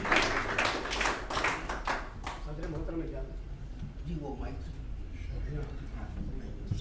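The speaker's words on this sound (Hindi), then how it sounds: "ज़ोरदार तालियां" Scattered audience clapping at an Urdu poetry mushaira, a burst of claps over the first two seconds that quickly fades under a voice and murmuring crowd.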